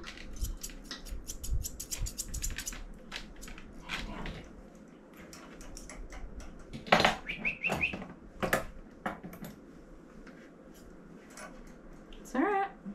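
Scissors snip dog fur in quick, close bursts during a toy poodle-Cavalier puppy groom, mixed with rustling and soft squeaky noises, and the snipping comes in irregular runs.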